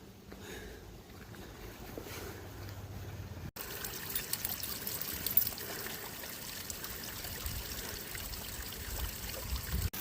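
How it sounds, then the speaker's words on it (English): Steady broadband rush of a small waterfall trickling on a woodland trail in County Wicklow, Ireland, continuous throughout with a louder patch after the first few seconds. "where you see that small little waterfall"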